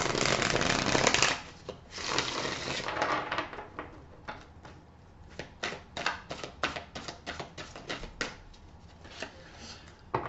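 Playing cards shuffled by hand for a tarot-style card reading, a long dense riffle at the start followed by a run of sharp, irregular card snaps and flicks, close and fairly loud with no talking.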